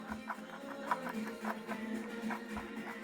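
An old, worn motor from a Samsung VC-6015V vacuum cleaner with a failed bearing gives a faint, rhythmic rustling and scraping over a low steady hum, quiet and close.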